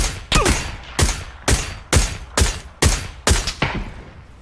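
Rapid gunshots in a video game ring out in eight sharp, evenly spaced bursts about half a second apart, loud and close, each with a short echoing tail and no talk.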